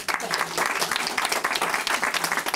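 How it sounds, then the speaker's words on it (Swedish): Classroom audience applauding during a Swedish morning TV segment, dense steady clapping from a group filling the short stretch with no talk over it. "Ska vi inte ge Olle en stor applåd?"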